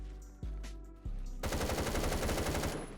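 A compact AK rifle firing in the shooter game Phantom Forces: two single loud shots, then a rapid full-auto burst of close, dense gunfire lasting over a second.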